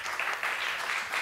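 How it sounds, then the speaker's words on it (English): A conference audience in Berlin gives a short burst of applause, dense even clapping from many hands filling the room for about a second without pause. "I think you deserve an applause, exactly."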